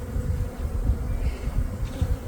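Honeybees buzzing around nucleus colony boxes outdoors, a steady low droning hum of many insects close by with slight swells in loudness, no voices.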